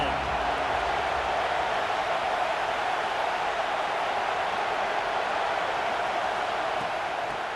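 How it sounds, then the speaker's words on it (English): A large stadium crowd at a football game roars in a steady, dense wash of cheering and noise that holds at full level throughout, with no single voice standing out. "This crowd ready to make its presence known."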